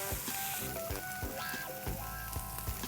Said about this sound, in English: I'm going to saute the onion till it gets nice golden brown.